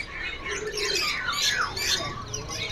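A kacer, the oriental magpie-robin, kept for sale as a young male at a bird shop, calls in a run of bright, rising and falling whistled notes that repeat steadily over a constant background murmur.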